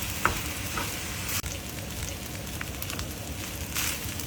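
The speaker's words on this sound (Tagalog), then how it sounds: "Break apart ang kaning lamig and toss to distribute." Shrimp fried rice with broken-up cold cooked rice tossed in a hot pan, giving a steady close sizzle with scraping stir strokes and a sharp clatter near the start, no talking.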